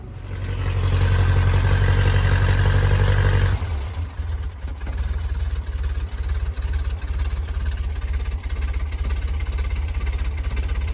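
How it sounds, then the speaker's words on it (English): A VW Beetle engine idles loudly and steadily at close range, dropping to a slightly lower, rougher idle partway through. "Can't believe it's running and it's idling."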